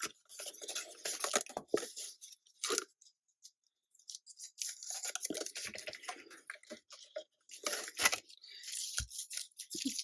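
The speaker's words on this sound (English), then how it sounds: "So now just pull some of this Post-it note tape off." Post-it note tape peeled off a card project on a tabletop in repeated short tearing and crackling bursts, close and fairly quiet, with pauses between pulls.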